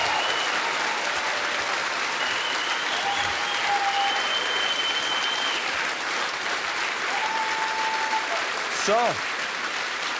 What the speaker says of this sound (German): Mal einen Applaus für all die starken Frauen in unserem Land